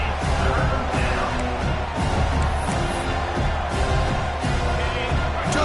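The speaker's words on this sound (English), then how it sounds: "this home crowd is fired up and ready to make a difference today" Home crowd roaring in a college football video game, ACC versus Louisville, a steady dense wall of cheering throughout with commentary faintly mixed in.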